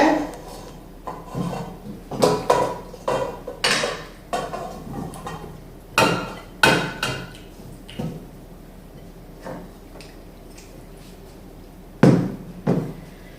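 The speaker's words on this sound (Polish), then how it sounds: "wsypuję do garnka te morele" Apricot quarters tumble into a pot in a series of irregular soft thuds and clatters, with a final louder pour near the end.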